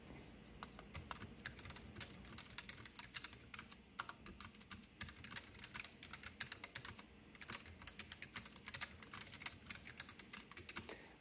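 Someone types on a K1 mechanical keyboard at a steady average pace, a dense stream of crisp key clicks and clacks heard close up and alone.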